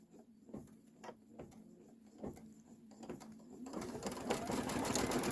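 A sewing machine tacks down fabric in short, quiet bursts of stitching, then settles into a faster, louder continuous run toward the end.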